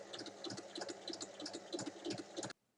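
A sewing machine topstitches along a zipper on a large fabric bag, running in a quick, steady stitching chatter for over two seconds before stopping abruptly into silence.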